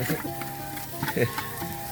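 Curry paste stir-fried in a clay pot: a steady loud sizzle runs throughout, punctuated by scraping and clacking strokes as it is stirred.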